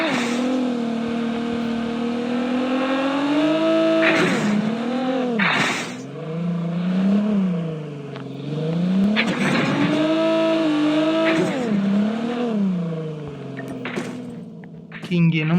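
A scooter driven in a battle royale game, its engine droning steadily and rising and falling in pitch as it speeds up and slows, with someone talking over it.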